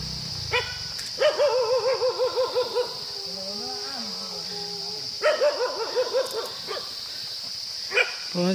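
Dogs barking outdoors in a rural hill setting during a walk, a run of rhythmic mid-distance barks in two bursts with a single later yip, over steady insect-like background hiss and faint talk.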